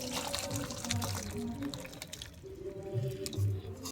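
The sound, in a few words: fish curry being poured into a bowl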